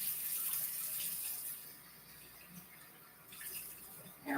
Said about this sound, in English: I'm going to rinse it out, actually